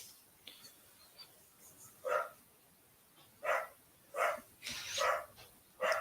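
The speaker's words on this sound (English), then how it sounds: "My dogs are raising hell." Dogs bark several times in short, separate bursts at a moderate distance against a quiet background.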